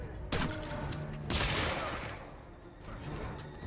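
Gunfire from thugs in a Spider-Man video game, rapid bursts of shots with a loud volley about a second in, fading into scattered reports.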